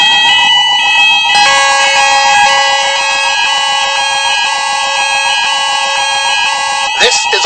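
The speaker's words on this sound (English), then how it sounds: "This is a fire alarm. Please leave the building immediately by the nearest available exit." A building fire alarm sounds a steady, loud electronic tone that runs through the whole stretch, alongside a recorded voice repeating an evacuation announcement.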